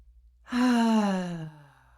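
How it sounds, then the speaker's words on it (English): A single deep, audible breath, drawn in and let out as a long sigh, close and alone, trailing off into quiet. "yeah, I'm just breathing"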